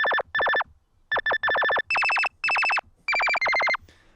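A run of synthetic electronic beeps made in the Harmor synthesizer, some short and some sustained, stepping between two pitches like a cell phone ringtone, loud and clean.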